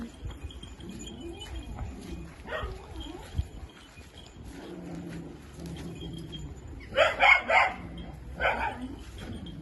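A Karabaş dog barks a few times at a farm, the loudest barks near the end, against quiet outdoor background and some bird sounds.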